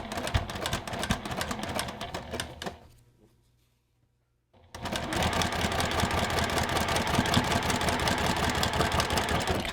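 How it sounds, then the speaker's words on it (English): Domestic sewing machine stitching a pieced quilt block, a steady mechanical whirring hum that runs, pauses briefly into near silence, then resumes at a constant pace, with no talk. "Sewing right at the beginning, removing my pins as I need to, making sure those seams are being sewn down in the direction they're pressed"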